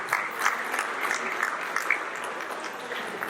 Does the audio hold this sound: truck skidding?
no